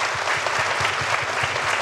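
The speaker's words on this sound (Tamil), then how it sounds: "கைத்தட்டி கடவுள் நன்றி சொல்லு" A congregation at a prayer service claps in thanks to God, loud dense applause with a steady rhythmic pulse of hands beating together in unison.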